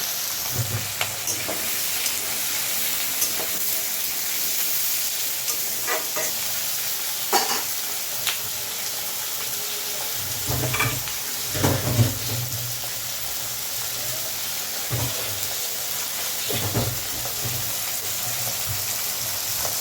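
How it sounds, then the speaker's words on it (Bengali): Potatoes, eggplant and vegetable stems fry with cumin in a pan, a steady loud sizzle running throughout, broken by occasional clinks and scrapes of a spoon, with no one speaking. "একটু ভেজে ভেজে দিয়ে মশলা দেবো"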